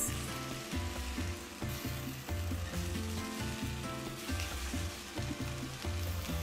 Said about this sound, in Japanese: しめじを炒めます。 香りが立つまで炒めます。